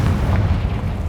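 A Confringo spell explosion in Hogwarts Legacy lands as a deep, booming rumble, loud and close, sustained briefly with no voice over it.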